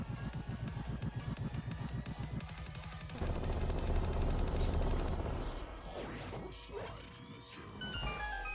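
Bombos medallion explosions in a Zelda game: a dense, loud run of crashing blasts, rapid sharp hits at first, then a heavier sustained rumble with scattered bursts near the end.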